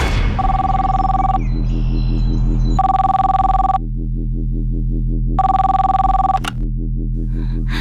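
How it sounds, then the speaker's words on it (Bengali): An old-style landline telephone rings loudly in repeated trilling bursts with pauses between, over a low steady hum. "বাড়ির ল্যান্ডলাইনে কেউ একজন ফোন করে"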